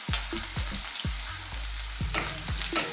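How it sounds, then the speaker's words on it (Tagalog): Garlic sizzles and fries steadily in a hot pan while Beef Salpicao is being made, with repeated stirring knocks and scrapes every half second or so over the constant crackle. "Lutuin na po natin ang ating bawang. Hintayin lang po natin siya maging brown."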